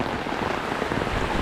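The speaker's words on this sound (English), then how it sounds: "We were sitting here enjoying the rain, but we started to get a little wet" Heavy rain pours steadily onto a bamboo house during a typhoon-season storm in the Philippines, a dense, even hiss of drops drumming on the surfaces, close and loud with no voices.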